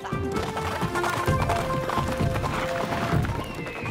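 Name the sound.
horse galloping in a cartoon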